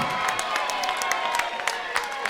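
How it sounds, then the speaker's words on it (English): Crowd at a women's 60kg championship fight, cheering and applauding two female fighters, with dense steady clapping and scattered shouts filling the arena throughout. "get on your feet and give us both a round of applause"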